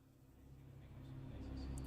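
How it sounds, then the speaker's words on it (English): A BMW M2 CS engine in a racing game starts up and settles into a low rumbling idle, swelling slightly louder over a couple of seconds, faint overall. "Engine on."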